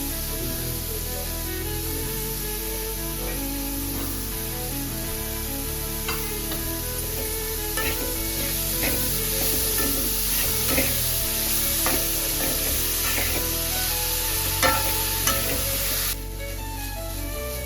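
Dried shrimp (sukat) fry and sizzle in a pan with cooked masala, green chilies and garlic, a steady close hiss broken by scattered stirring scrapes and clicks, a little louder midway before easing near the end.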